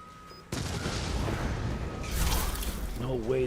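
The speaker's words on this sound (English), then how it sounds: "No way, the explosion was more whack this time?" An explosion in the video game Resident Evil 7 bursts suddenly out of near silence into a loud, sustained rumbling blast that swells again midway, and a voice is faintly heard near the end.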